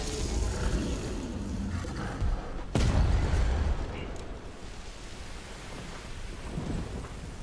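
In the Devil May Cry 5 video game, a boss's lightning attack sets off a loud thunder crack over a dense, roaring storm-like rumble. The rumble continues throughout at a steady, heavy level, with one sharp strike in the middle.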